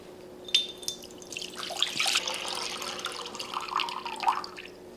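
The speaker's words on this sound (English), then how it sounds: "I'm going to pour water in here until I reach the bottom of the tape" Water poured into a 2-quart Crock Pot, a steady splashing, trickling pour that runs for several seconds at close range, with no talking.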